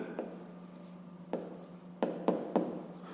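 Pen writing on paper in a math exercise for a fifth-grade class, quiet close scratching strokes arriving in short separate bursts with faint pauses between them.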